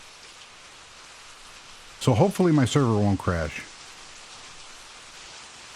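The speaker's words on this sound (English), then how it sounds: "It's raining now." Steady rain falls in the Minetest video game, a constant soft hiss that continues throughout while someone speaks briefly in the middle.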